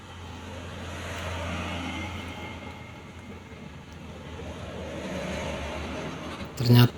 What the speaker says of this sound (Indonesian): Ternyata mobil yang arah dari Kandis juga ramai, guys